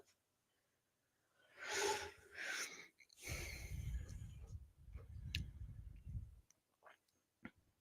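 A woman snores somewhere behind a person wearing a headset, giving long, rough, low breathing bursts with quiet gaps between them, and a few small clicks near the end.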